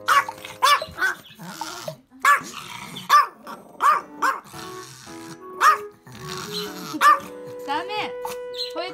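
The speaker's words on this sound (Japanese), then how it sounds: "吠えたらダメ。" A small Chihuahua barks in sharp repeated bursts and growls between them, up close and loud, while a person speaks over it.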